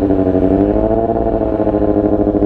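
A motorcycle's exhaust is held at about 4,000 RPM, a loud, close, steady buzzing drone with a slight rhythmic pulse and no talk.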